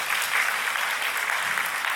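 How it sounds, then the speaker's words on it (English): Audience applause at a Superman press tour event in Manila, a steady dense roar of many hands clapping throughout, loud and continuous with no break. "Can we get the big applause, ladies and gentlemen?"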